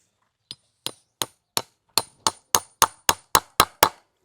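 Repeated hammer blows, a dozen sharp strikes in steady rhythm, starting light and growing louder, close by with no talking.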